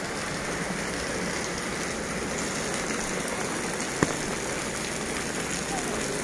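Heavy hurricane rain from Hurricane Nora pours down in Acapulco as a dense, unbroken hiss of drops on surfaces, loud and steady throughout, with one sharp knock near the end.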